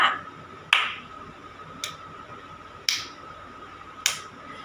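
A kindergarten teacher taps out a steady beat for a movement warm-up: five crisp, sharp knocks spaced about a second apart, close and clear over a quiet room with no talking.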